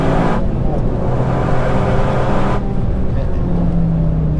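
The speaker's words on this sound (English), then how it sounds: "Basically, you're hearing a high volume of air traveling through the exhaust." Exhaust of a Toyota GR Yaris, heard from inside the cabin on the Nürburgring, a loud steady rushing drone of air through the exhaust with a sustained engine tone underneath.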